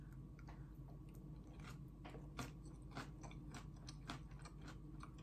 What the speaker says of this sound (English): I'm going to eat more because I'm hungry